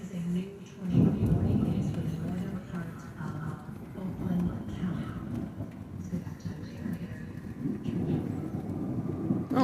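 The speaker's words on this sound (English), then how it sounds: "Pretty basic thunderstorm." A thunderstorm rumbles with low rolling thunder over steady rain, a continuous dense wash of sound throughout, with a louder thunder swell near the start.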